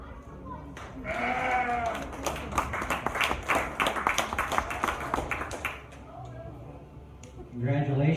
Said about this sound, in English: Please give these kids a round of applause